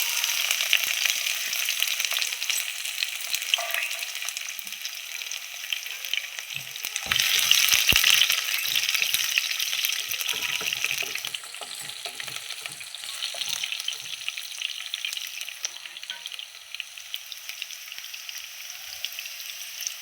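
Garlic fries in hot oil in a pan for a pepper chicken fry, with a steady bright sizzle and brief spattering crackles midway, close up and with no talk.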